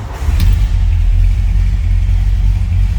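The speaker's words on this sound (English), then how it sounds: "Let's go ahead and fire this 390 up." A 1964 Ford Galaxie 500 XL with a 390 V8 runs close by in a loud, steady low rumble that begins almost at once and holds throughout.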